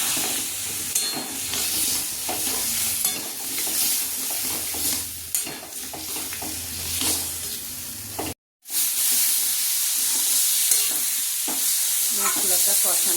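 Spices and potatoes sautéing in a pan for a banana-flower dish with prawns, a steady sizzle with stirring scrapes running throughout, broken by a brief silent gap before the frying resumes.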